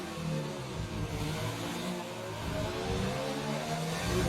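Racing car engine in a video game, short shifting out of Spoon at Suzuka: a steady, loud mid-pitched engine drone that rises and falls slightly through the gear changes, with no talk over it.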